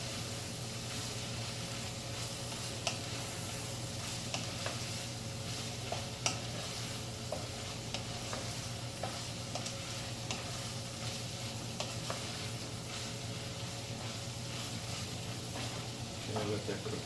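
Meat for spaghetti sauce fries in a pan with a steady, fairly quiet sizzle, broken by occasional soft clicks and scrapes of stirring.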